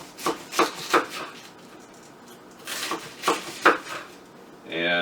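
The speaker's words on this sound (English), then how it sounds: "basically all I do is just cut it into slices like so" A knife cuts through cabbage for sauerkraut: two quick runs of three or four crisp slicing thuds on a board, close and fairly loud, with a quiet gap between and a brief rustle at the end, no talking.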